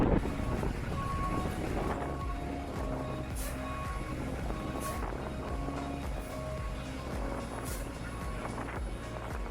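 Big box truck being reversed out of a speedway at a Jeep event setup, its reversing alarm beeping in a steady repeating rhythm under rumbling engine noise and heavy wind buffeting on the microphone.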